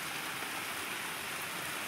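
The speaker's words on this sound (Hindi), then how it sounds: "बहुत जोर वर्षा हो" Heavy rain lashes down with gusty wind, a dense, even roar of falling water with no pauses.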